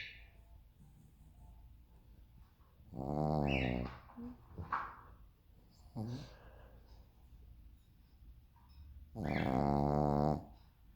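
A dog snores in long, rasping breaths, two loud drawn-out snores separated by quieter breathing and a brief snort, close by, with faint talk in the background.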